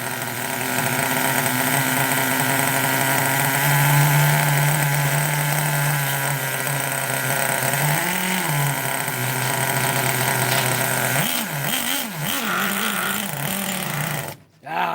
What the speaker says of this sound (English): you saw it run or you heard it fire up